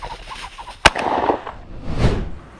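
A rooster crows in a rising, strained call, preceded by a sharp loud bang and a second crow-like cry trailing off near the end.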